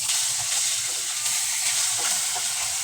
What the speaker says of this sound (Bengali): প্যান বসিয়ে মাছ ভাজাও বসিয়ে দিলাম।